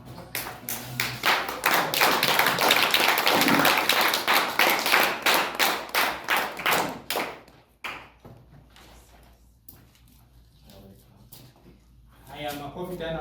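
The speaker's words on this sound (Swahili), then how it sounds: "Haya, makofi tena wakienda." A church congregation claps together during a thanksgiving Mass at a special school, a loud, sustained burst of dense applause that fades after several seconds, followed by quieter room sounds and voices.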